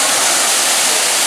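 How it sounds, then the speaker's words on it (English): A waterfall in a themed area at Universal Orlando gives off a loud, steady, dense rush of falling water filling the whole clip. "You see all the water here, the waterfall"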